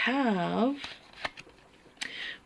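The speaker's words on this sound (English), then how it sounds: "the tea leaf cards that I'm shuffling right now" Crisp riffling of tea leaf cards being shuffled, a few short bursts and snaps following a spoken voice at the start.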